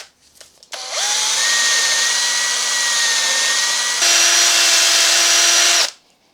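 A power drill spinning a split pin wrapped in Scotch-Brite whirs loudly at a steady high pitch for about five seconds, its tone shifting once partway through before it spins down.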